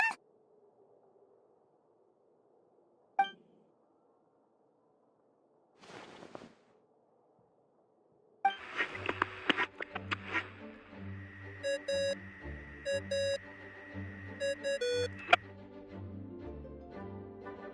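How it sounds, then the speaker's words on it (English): Bright, tonal beeping and chiming from Genshin Impact rings out in rhythmic repeated notes over a low droning bed, following a few isolated soft blips in near silence. "What's that ringing? Is it the wind or something?"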